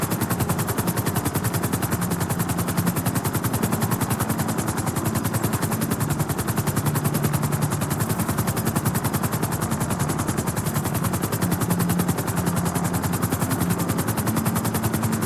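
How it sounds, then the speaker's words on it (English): Continuous loud rotor thrum of a video game helicopter in GTA V with a steady mechanical drone throughout, no voices, dense and unbroken for the whole stretch. "So right there is where we're gonna try to land this helicopter."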